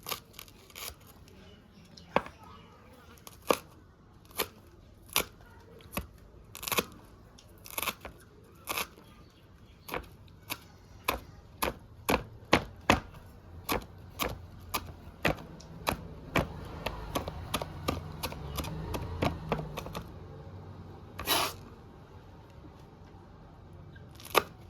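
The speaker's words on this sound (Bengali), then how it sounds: "এবার লঙ্কাটা কুচিয়ে নেব।" Chili peppers are chopped on a board for upma: crisp knife strikes, sparse at first, then speeding into a rapid, steady chopping rhythm, with a final isolated chop after a short pause.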